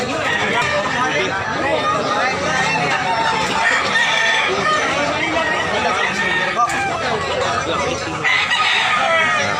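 Chickens and roosters at a busy market in Tabunok, Cebu, crowing and clucking nonstop beneath steady crowd chatter and people talking nearby.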